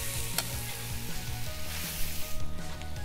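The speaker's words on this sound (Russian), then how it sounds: "Поэтому отправляем сюда обжариваться репчатый лук." Chopped onions sizzling in oil in a cauldron over an outdoor campfire, a steady close frying hiss with faint clinks of stirring.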